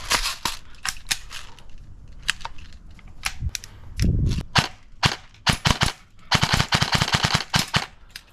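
An expensive $1,000 airsoft rifle fires rapidly on semi-automatic, a string of sharp snappy cracks in quick succession, some irregular and some in fast bursts, close and loud.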